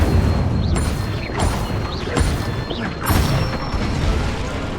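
Incendio fire spell cast in the video game Hogwarts Legacy, several whooshing bursts with crackling flame and mechanical clatter, loud and close, repeating about every second and a half.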